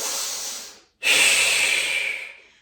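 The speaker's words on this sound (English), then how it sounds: "4 more lateral breaths here." Lateral breathing during a Pilates exercise: two long, close breaths, a hissy exhale followed after a brief pause by a stronger, airy breath that fades out, with no speech.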